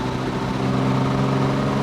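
A 1955 Jaguar XK140 MC engine runs steadily under throttle with a continuous, even drone and low harmonic hum. It sits close and holds constant loudness with no talk over it.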